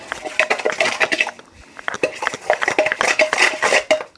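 A spoon clinks and scrapes against a bowl while sugar and cinnamon are stirred together, in quick, close bursts of rattling strokes with a short pause in the middle.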